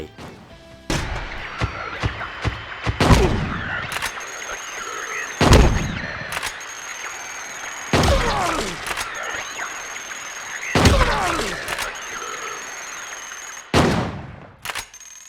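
Repeated loud bursts of gunfire fired into a cell at Toluca Prison in the video game Silent Hill 2, with sharp shots spaced a few seconds apart over a dark, droning ambient background.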